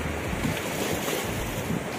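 Steady wind buffets the microphone over a constant wash of surf at Starfish Beach Resort in the Philippines, with no voices.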